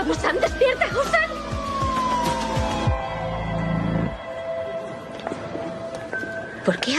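An ambulance siren at a tense emergency scene, its wailing tone gliding up and down beneath agitated voices and background commotion.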